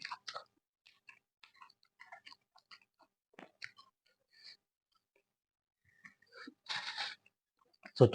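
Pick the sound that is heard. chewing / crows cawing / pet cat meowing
chewing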